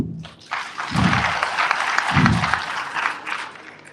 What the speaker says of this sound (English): I got your clap now.